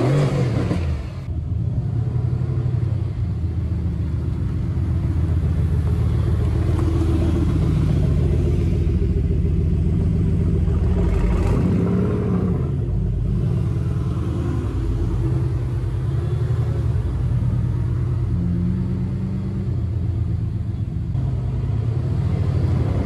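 A car engine rumbles steadily as the car rolls slowly, a loud, continuous low drone with a brief rise in pitch midway, close and with no talking.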